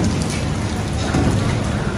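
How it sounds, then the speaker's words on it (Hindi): Monsoon rain in Karachi at a construction site pours down steadily in a dense, close hiss of drops on surfaces, continuous and loud with no voices. "बारिश का मौसम है,"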